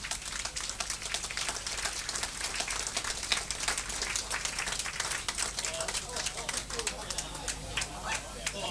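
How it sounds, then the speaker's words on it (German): A live comedy show audience applauds steadily for several seconds, a dense patter of many hands clapping at even loudness with a voice faintly mixed in. "Applaus darf einsetzen"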